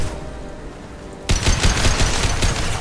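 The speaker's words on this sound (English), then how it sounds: "when backpacks full of fire explode, they hurt you if you're too close" A fire-filled backpack explodes close by during Mass Effect 2 combat on Tuchanka, a sudden loud burst at mid-clip followed by crackling, rumbling fire and gunfire-like bangs that continue to the end.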